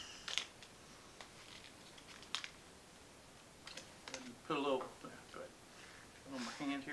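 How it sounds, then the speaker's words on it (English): Kitchen scissors cut open a snack package with a few sharp clicks and snips scattered over several seconds, close by and quiet, with voices talking in between. "Kitchen scissors."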